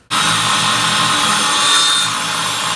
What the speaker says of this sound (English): So Joe just cut some plywood for our benches.